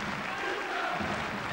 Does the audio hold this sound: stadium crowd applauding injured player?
yes